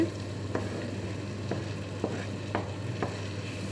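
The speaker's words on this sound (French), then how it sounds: "Donc là mon poivron il a commencé à bien cuire" Bell pepper, shrimp and fish fry in a pan with a steady sizzle, while regular stirring scrapes land about every half second, close and fairly quiet.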